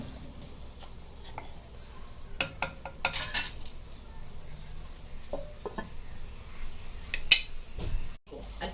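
Clay pot on a stove for Konkani fish curry being covered with its lid, giving a few light clinking and scraping knocks between about two and three and a half seconds, plus a sharper clink near the end, with no talk.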